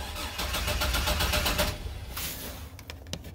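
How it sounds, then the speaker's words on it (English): A 2002 Chevy Silverado's engine cranks when its starter fuse is powered by hand, a fast rhythmic starter whir for about a second and a half, then fading, followed by a few sharp clicks. "And if I manually power, it will actually crank the vehicle."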